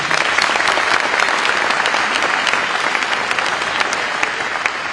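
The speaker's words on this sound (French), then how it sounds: "Et j'ai envie qu'on les applaudisse aussi." Sustained applause from a town audience at a mayor's New Year address in Cavalaire, dense steady clapping filling the room for the whole stretch with no voices over it.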